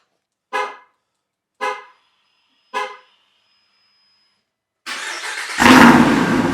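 Jeep Wrangler Rubicon 392 with the big Hemi V8 and valved exhaust: three short separate chirps, then the engine fires up with a loud burst and settles into a heavy, rumbling idle, close by.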